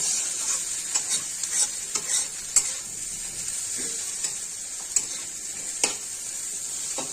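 Potato curry sizzles steadily in a hot wok while a utensil scrapes and stirs it in repeated short strokes, with no voices.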